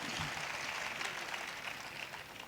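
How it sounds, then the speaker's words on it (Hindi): Loud applause from the audience at a Hindi poetry recital, a dense burst of clapping that stays full for a couple of seconds and then starts to thin out toward the end. "एक बार जोरदार तालियां बजाकर बताइए कि आप मुझे सुन रहे हैं"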